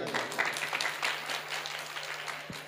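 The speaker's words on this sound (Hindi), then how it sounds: "सच है तो एक बार ताली बजाओ।" Audience clapping at a devotional jagran party, a fairly distant, continuous patter of many hands over a steady low hum, with no distinct voices.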